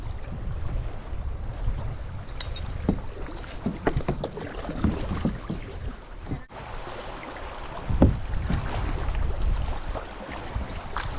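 River water rushes and churns steadily around a small boat, with splashes and knocks against the hull, continuous and fairly close, no voices.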